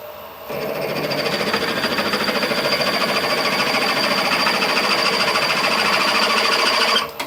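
A drill grinds steadily into the metal of a steam boiler safety valve, a harsh whirring buzz that holds constant for several seconds before cutting off abruptly.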